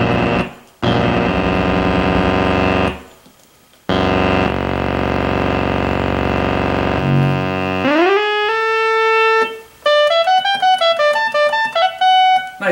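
A Baroque synthesizer plays a simple patch, giving sustained buzzy harmonic tones that break off and restart. A brighter run of stepped, sequenced notes follows, and no voices are heard.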